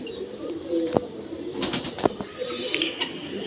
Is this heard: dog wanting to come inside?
no